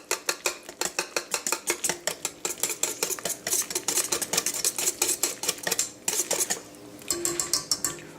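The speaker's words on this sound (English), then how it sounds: "we're going to start whisking all of this stuff together" A whisk beats hamburger bun dough ingredients in a bowl with fast, steady metallic clinking and scraping, each stroke ringing close and sharp, running continuously with a brief pause before resuming.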